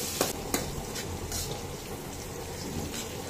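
Bay leaves dropped into onions and chili sizzling in a pan, with a steady frying hiss, a couple of sharp clatters early on, and soft stirring scrapes under the sizzle.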